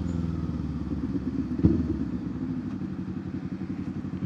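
Kawasaki Z400 motorcycle engine under throttle, a close, steady low rumbling drone with a short sharp blip partway through, heard alone without talk.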